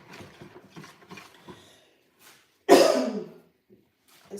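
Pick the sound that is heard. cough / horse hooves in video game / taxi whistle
cough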